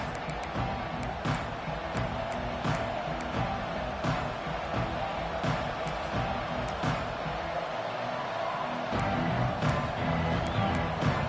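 Steady roar of a stadium crowd at a college football video game matchup, Miami at Clemson, a dense continuous wash of cheering with faint rhythmic pulses, staying level throughout with no clear voices.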